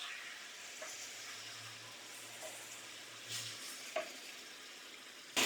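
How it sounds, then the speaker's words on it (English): Pasta sauce ladled into cooked ground beef in a hot pan sets off a quiet, continuous sizzle, with a few soft clinks and stirring scrapes over the steady hiss. "I do want to add some pasta sauce. So we're just going to ladle a little bit in here."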